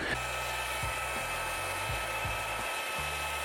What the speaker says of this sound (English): I will use the blow dryer to kind of just help set my edges